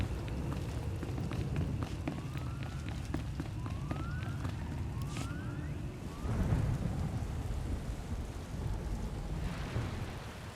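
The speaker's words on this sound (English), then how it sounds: "Hard to track them through the storm. Rain's wiped out the trail." Steady heavy rain and rumbling thunder in a stormy scene from the Star Wars: The Old Republic video game, a continuous wash of downpour with thunder swelling louder around the middle, no talking.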